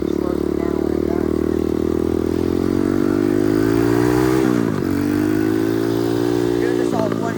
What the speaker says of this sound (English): try not to wreck while I'm downshifting